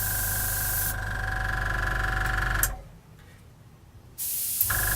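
A compressor hums steadily while an airbrush sprays with a broad hiss, cutting out briefly midway before the spraying starts up again.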